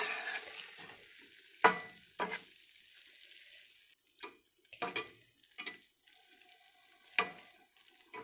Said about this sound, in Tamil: போட்டுட்டு இது கூட சேர்ந்து மிக்ஸ் பண்ணி பரட்டிடலாம்